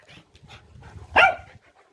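A single sharp dog bark rings out near and loud in the middle, surrounded by quieter rustling and scuffling in a garden during spring planting.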